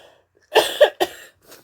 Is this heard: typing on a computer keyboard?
no